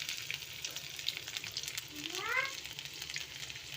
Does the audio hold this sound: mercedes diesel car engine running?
no